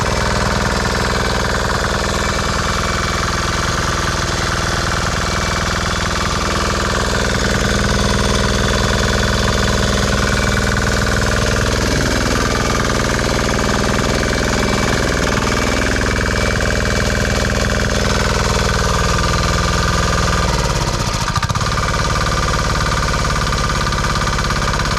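A Chinese diesel engine runs loud and close, a constant rough, shaking drone with a heavy knocking rumble and a slight dip and recovery in pitch near the end.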